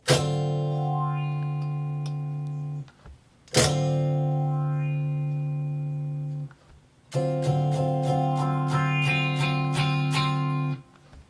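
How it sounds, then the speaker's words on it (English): An electric guitar through a wah-wah pedal plays three sustained notes. The tone of each sweeps from dark and muffled to bright and nasal as the pedal rocks from its lowest to its highest position, and the last note is rapidly strummed. "Moving the pedal from its lowest position to its highest position makes a guitar sound like"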